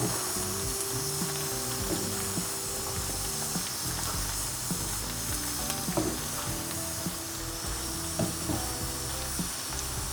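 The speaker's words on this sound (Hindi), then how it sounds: "अब ये भिंडी भी ऐड करने लगे हैं, इसी के साथ फ्राई करनी है दोनों चीज़ें इकट्ठी" Okra and onion fry together in a pan with a steady, even sizzle of hot oil. Faint scraping and stirring knocks come through underneath it, and no one speaks.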